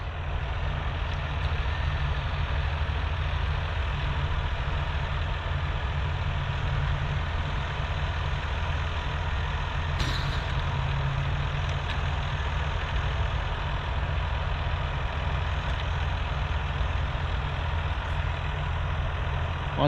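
A truck tied to a tree idles with a low, steady engine rumble, heard continuously at moderate level with no voices.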